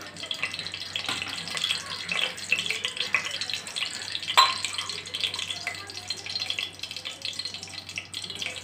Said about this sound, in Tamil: இந்த ஹாஃப் கப்பு நெய்யை ஊற்றிடலாம். இது கூட இன்னும் கொஞ்சம் சன்ஃப்ளவர் ஆயில் கூட ஊற்றிடலாம்.